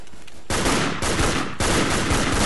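Loud, dense gunfire from the World War II shooter Darkest Hour, with three long sustained bursts of rapid automatic fire beginning about half a second in and carrying on almost unbroken to the end, close and overpowering.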